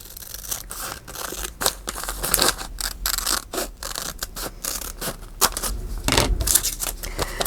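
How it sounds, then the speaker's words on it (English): Scissors snipping through the bottom of a paper sack, a close run of crisp crunching cuts and rustling paper strokes repeating in an uneven rhythm, with no talking. "So, let's start with the sack. We know we're going to cut off the bottom."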